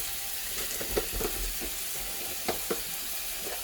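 Salmon and scallops sear in a hot pan, a steady broad sizzle with a few sharper crackles and pops spaced through, close and fairly quiet, no one talking.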